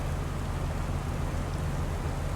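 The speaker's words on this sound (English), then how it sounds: "we need to stop this rain" Steady rain hisses in the Farming Simulator game, a dense, even wash of drops that holds constant and fairly loud throughout, with no voices.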